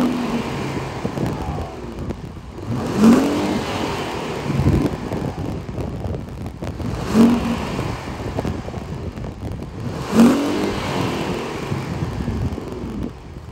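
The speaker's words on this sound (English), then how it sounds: "So since we got the functional dual exhaust, let's hear what this baby sounds like." A 2023 Infiniti Q50 Sensory AWD with a twin-turbo V6 and functional dual exhaust, revved three times at a steady idle with sharp rising blips and brief settling between, heard close with some wind noise.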